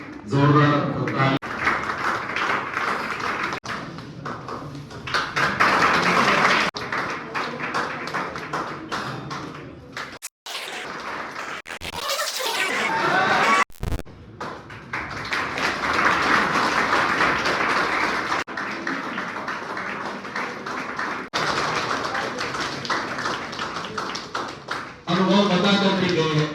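A crowd at a Teachers' Day gathering of a low-cost coaching class claps loudly and continuously for about half a minute, a dense rattle of hands with one brief lull in the middle.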